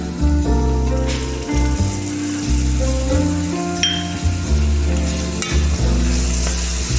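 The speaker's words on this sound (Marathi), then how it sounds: "आता ही दही टाकून घेऊ।" Yogurt goes into hot spiced masala for egg biryani, and the pan sizzles loudly and steadily up close, with stirring scrapes and a few clinks of a spoon.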